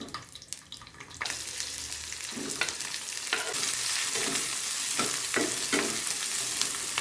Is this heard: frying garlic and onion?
yes